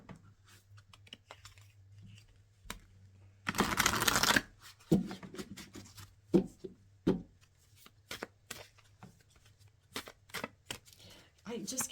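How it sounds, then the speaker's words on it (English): Tarot cards being shuffled and drawn: a loud riffling burst, then soft slides, flicks and taps as single cards are pulled and laid down, close by against a faint low hum. "I'm going to pull another card here"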